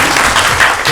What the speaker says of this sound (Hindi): तालियां बजाई भाई